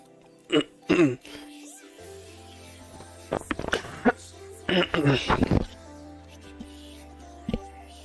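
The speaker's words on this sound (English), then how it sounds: "Just keep coughing every now and then, but not too much." A few short throaty coughs and throat-clearing bursts, fairly close, spaced irregularly with quiet gaps between them.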